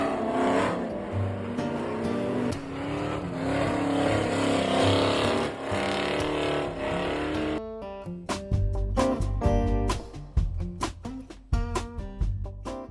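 Car engines roar near a campsite in Cape Town, South Africa, a loud sustained rumble with shifting revs that breaks into sharp, rhythmic bursts of revving in the second half, with no voices.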